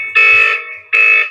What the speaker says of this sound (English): the door opens up and there the entry tone begins, giving me 30 seconds to unset the system before it goes into full alarm